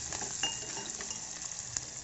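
Onions frying in hot oil with popping mustard and cumin seeds, a soft continuous sizzle with faint clinks of stirring, fairly quiet and without talk.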